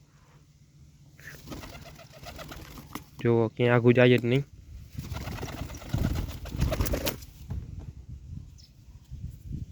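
A young pigeon gives a short run of soft, breathy coos near the microphone while a person talks nearby.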